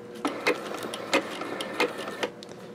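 A sewing machine zigzag-stitches coiled industrial rope for a rope bowl. It makes a rapid, even mechanical clatter broken by several louder periodic thumps as the stitching moves around the coil.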